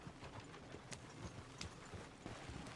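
Horse hooves clip-clopping in the video game Red Dead Redemption 2, a quiet, steady run of soft hoof beats with faint background ambience.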